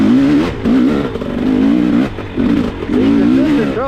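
A dirt bike engine revs and bogs with uneven throttle while climbing uphill on an enduro race course at Fort Novosel, its droning tone rising and falling steadily in a close, continuous roar with a few brief dips.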